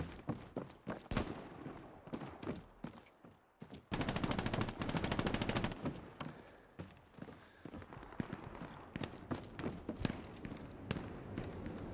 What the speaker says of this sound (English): There's a machine gunner in that building.